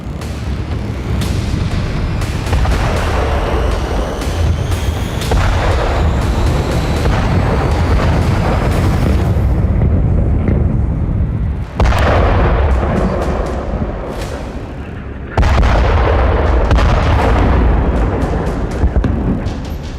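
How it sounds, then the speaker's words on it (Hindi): Israeli airstrikes pound Khan Younis in south Gaza at night, with heavy, continuous booming and rumbling explosions, loud and overlapping, with a few sharper blasts breaking through the roar. "आईडीएफ ने सिर्फ शुरुआती 30 मिनट में ही 100 से ज्यादा एयर स्ट्राइक कर साउथ गाजा को दहला दिया।"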